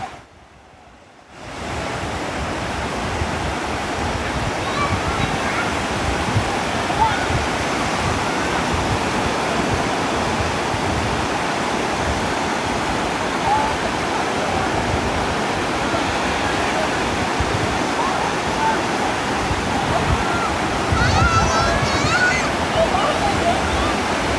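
Loud, continuous roar of sea waves whipped by strong wind at Chao Lao Beach, a steady dense wash of surf with no pauses.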